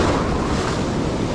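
Ocean surf crashes and rushes steadily onto the beach during surf fishing, a loud, continuous, close wash of breaking waves with no voices.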